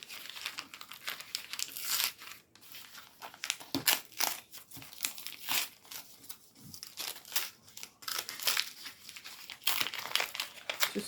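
A crinkly junk food wrapper is pulled and taken apart by hand. Close, irregular bursts of crackling plastic with brief tearing rustles come in quick clusters throughout.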